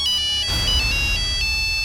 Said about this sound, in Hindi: ये देखिए सर का फोन भी आ गया।